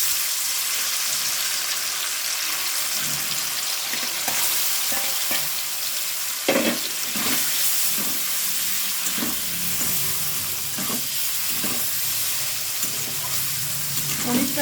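Paneer cubes sizzle and fry in oil in a kadai, a steady bright crackle throughout with several stirring knocks and scrapes of a spatula against the pan in the second half.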